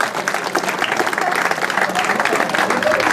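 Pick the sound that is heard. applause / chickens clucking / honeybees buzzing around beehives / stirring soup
applause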